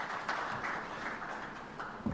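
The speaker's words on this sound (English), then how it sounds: "Let's clap for Mr." An audience at a live ceremony marking twenty years of financial inclusion gives steady, fairly distant applause, a continuous wash of clapping for an introduced guest with faint voices underneath.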